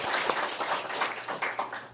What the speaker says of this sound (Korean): 환영하는 마음으로 박수 한번 하겠습니다.